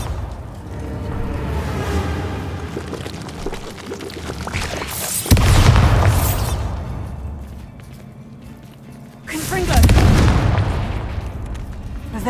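Two Bombarda spell explosions in Hogwarts Legacy, each a sudden loud booming blast with a rumbling tail, separated by several seconds of quieter low ambience.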